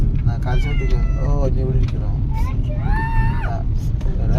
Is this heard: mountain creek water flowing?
no